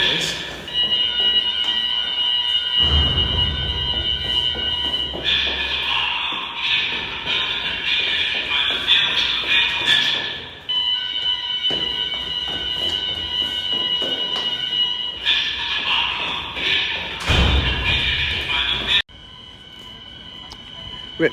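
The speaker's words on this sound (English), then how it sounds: "Ripped out of bed for a bloody fire alarm." A university building's fire alarm rings in a loud, steady electronic tone with repeating pulses, continuing for a long stretch with brief interruptions while faint talking sounds underneath.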